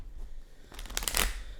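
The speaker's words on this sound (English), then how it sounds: "As I'm shuffling the cards" A deck of tarot cards riffled and shuffled close up in one quick crisp burst of flutter and snap after a brief quiet moment.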